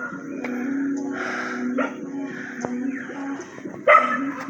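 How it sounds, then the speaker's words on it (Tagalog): A dog barks and yips repeatedly nearby, with whining tones in between and one louder bark near the end. "Ingay ng aso nagtataon."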